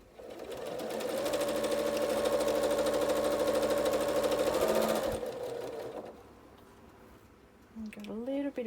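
A sewing machine stitches down a dark pink 12.5-inch fabric strip for a quilt block, its rapid mechanical whir running steadily for about five seconds before stopping, followed by a few quiet handling sounds.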